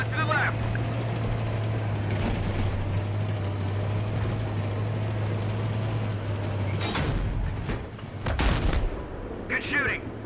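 Heavy gunfire and booming blasts from a Battlefield 3 tank battle, with a low engine drone running underneath and sharp, loud shots breaking out near the end.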